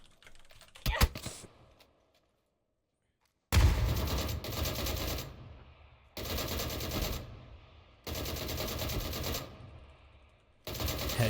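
Automatic gunfire from the PUBG video game rattles out in several rapid, loud bursts separated by short pauses, after a few sharp clicks and a moment of near silence.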